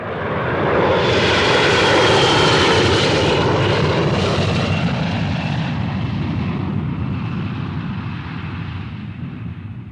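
A low-flying reconnaissance plane over a village passes with a loud, broad engine roar that swells early and then slowly fades as it moves away.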